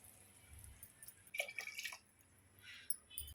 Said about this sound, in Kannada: ಈಗ ಮಸಾಲೆ ಎಲ್ಲ ಹಾಕಿದ ಮೇಲೆ ನೋಡಿಕೊಂಡು ನೀರು ಹಾಕ್ಕೊಳ್ಳೋದು ಎಷ್ಟು ಬೇಕೋ ಅಷ್ಟು